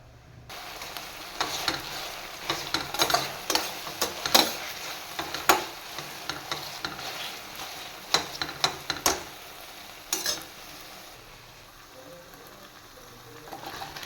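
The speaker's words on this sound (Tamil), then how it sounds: "இந்த தக்காளியெல்லாம் நல்லா வதங்கிட்டு இருக்கும்போது" Tomatoes sautéing with salt in a pan for a coconut-tomato bean curry, giving a steady close sizzle broken by repeated sharp spoon scrapes and stirring clatters, with no talk.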